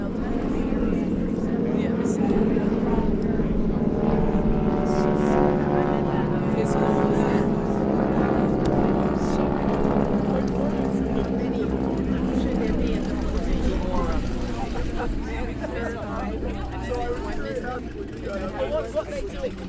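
Several T-6 Texan propeller planes drone overhead at a memorial gathering, a loud steady engine roar that swells and slowly shifts pitch, with people talking over it throughout.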